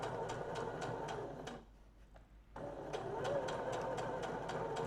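A sewing machine stitches 1 mm from the edge to sew darts in fabric for a Véga garment, running in a steady, rapid mechanical rhythm up close. The motor stops briefly midway, then starts stitching again, with no voices.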